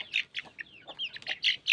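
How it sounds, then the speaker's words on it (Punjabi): Young chicks sired by a yellow rooster peep and cheep in a quick run of high, bright calls, close by and fairly loud, with no voices. "ਆਪਣਾ ਪੀਲਾ ਮੁਰਗਾ ਹਿਟਲਰ ਆ ਉਹਦੇ ਬੱਚੇ ਆ"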